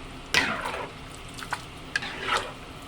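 Dinuguan, a pork blood stew, being stirred in a cooking pot, with a few sharp scraping and clinking strokes of a utensil against the pot over a soft simmer.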